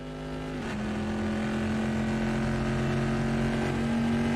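Trans Am race car engine held flat out on the rev limiter through a fast corner at Spa in a racing video game, a loud, steady, buzzing high-revving drone that shifts pitch slightly early on and then stays constant.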